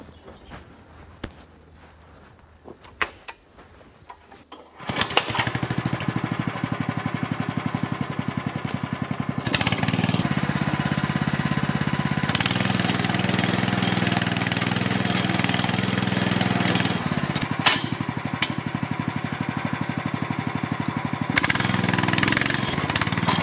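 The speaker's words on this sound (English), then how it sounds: "We engage the power to the actual winch." A forestry winch engine starts up after a few quiet seconds of clicks, then runs loud and steady at a mid-pitched drone with slight shifts in load, close by and with no talking.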